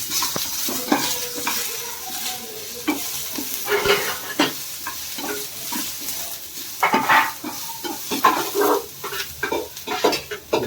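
Four green chillies frying in hot oil, a close crackling sizzle broken by stirring scrapes of a spoon against the pan, busy and irregular throughout with no talk.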